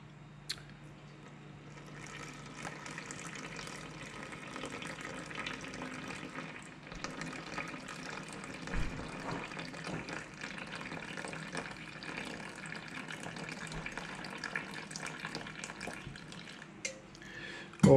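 Filtered water pours into a bread machine pan for dough, a steady splashing trickle lasting throughout at moderate level, alone.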